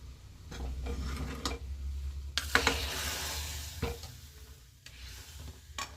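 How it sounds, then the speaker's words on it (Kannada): Tempering sizzles as it goes into bele sambar in a pressure cooker. A steady frying hiss and stirring clinks build to a louder burst of sizzling partway through, then ease off. "ಒಗ್ಗರಣೆ ಹಾಕ್ತಾಯಿದ್ದೀನಿ."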